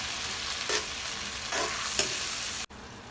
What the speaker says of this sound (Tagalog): Pagkatapos niyan ay halu-haluin lang natin hanggang sa maluto rin ng konti yung tomato sauce.